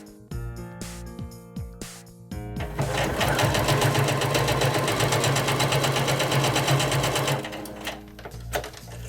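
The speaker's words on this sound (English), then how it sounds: "The second way to finish a seam using a zigzag stitch is to zigzag the edges prior to sewing the seams together" After a few faint clicks and handling noises, a sewing machine starts up and runs steadily for several seconds, a close, rapid mechanical whirring as it zigzag-stitches along fabric seam edges, then stops and the clicking returns.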